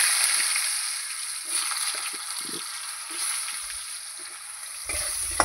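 Cut potatoes fry in a pan with oil, a steady bright sizzle throughout, punctuated by a few soft clinks and stirring bumps, with no talk over it.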